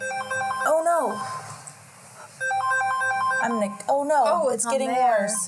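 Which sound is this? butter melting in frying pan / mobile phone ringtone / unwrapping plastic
mobile phone ringtone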